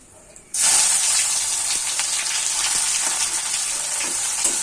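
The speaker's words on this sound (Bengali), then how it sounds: "পেঁয়াজটা একটু হালকা করে ভেজে নেব" Chopped onions frying in a pan for egg curry, a steady loud sizzle that starts abruptly after a brief quiet moment and holds evenly, with faint stirring clicks underneath.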